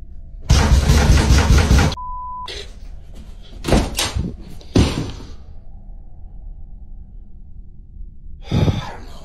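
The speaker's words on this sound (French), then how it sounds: "on dirait que quelqu'un veut entrer, et il toque à la porte de plus en plus violemment" Someone pounds violently on a door, growing more forceful, with loud irregular bursts of heavy banging separated by quiet pauses and no talking.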